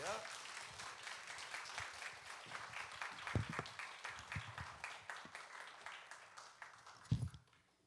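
A church congregation claps loudly for a guest preacher during a Sunday service, with dense, sustained applause and a few thumps, and the clapping stops abruptly at the end.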